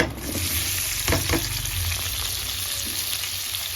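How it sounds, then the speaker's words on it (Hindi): Spices frying in a pan with apple gourd (tinda) about to be added, giving a steady close sizzle with a couple of brief stirring scrapes near the middle and no talk. "तो ये मसाले भून रहे हैं मेरे, और ये साथ में डाल देंगे टिंडे।"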